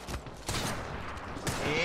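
Gunfire aimed at enemies in a video game, several sharp shots in quick bursts over a busy battlefield background, with talk mixed in.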